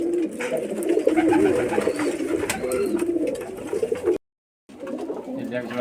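Pigeons at a sale pen coo in a dense, continuous chorus of soft, throaty warbles, close by, broken by a brief dropout near the end.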